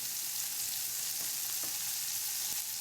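Food sizzles and fries steadily over a homemade wood gas camping stove fueled by pellets, a constant crackling hiss with a few faint pops and no talking.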